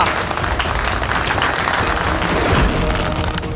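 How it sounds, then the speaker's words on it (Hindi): Audience applause at a staged Ramayana-style performance, following the introduction of the actor playing Lord Rama; dense, steady clapping fills the whole short stretch at close range with no voices on top. "जोरदार तालियां"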